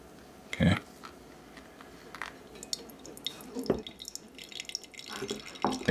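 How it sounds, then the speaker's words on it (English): Coffee blooming in a small Deep 27 pour-over dripper, soft intermittent drips and faint liquid trickles close by, with light handling clatter between them in a quiet room. "Let it drip out, degas a little bit, supposedly."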